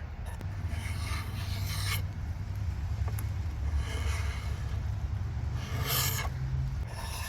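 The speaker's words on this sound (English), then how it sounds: "Just start at either the top or bottom and just scrape down the handle, removing all this lacquer." A blade scrapes lacquer off a wooden axe handle in repeated close, rasping strokes, each a gritty scratch, with steady rhythm and no voices.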